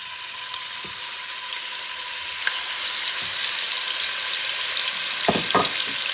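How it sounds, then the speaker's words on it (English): Lamb browning in a preheated hot pan crackles with a steady, close sizzle, with a few soft knocks and stirring clatters near the end and no voice. "I'm going to brown this lamb"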